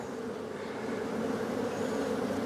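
Honey bees buzz in a steady, dense drone at an open hive while a frame is handled, close and continuous with no talk.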